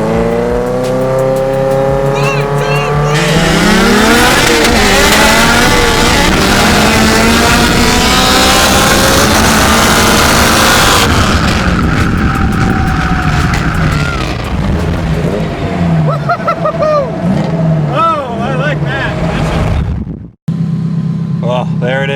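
A stripped-out Honda Civic running nitrous races a Subaru STI, its loud engine roaring and revving continuously with shifting pitch, heard up close from inside the car, with brief voices under the noise before it cuts out near the end.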